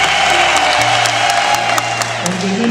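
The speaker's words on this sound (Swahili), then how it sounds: "Basi makofi jamani mengi" A congregation at a Tanzanian church wedding ceremony breaks into dense, continuous applause, a loud, even wash of many hands clapping close by.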